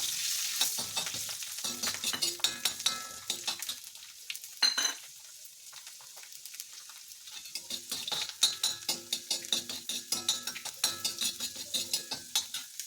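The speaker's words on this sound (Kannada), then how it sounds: "ಈಗ ಈ ಬೆಳ್ಳುಳ್ಳಿನ ಹಾಕಿ ಸ್ವಲ್ಪ ಫ್ರೈ ಮಾಡೋಣ" Garlic frying in a pan for tomato chutney, a bright close sizzle broken by quick clattering stirs of a utensil against the pan, with a brief pause midway, and no voices.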